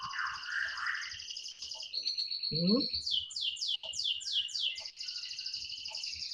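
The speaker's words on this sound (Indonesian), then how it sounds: "Kok cuit-cuit jawabannya?" Bird chirps fill the clip, with high repeated tweets and a quick run of rhythmic chirping in the middle, fairly close and clear, while a person briefly murmurs.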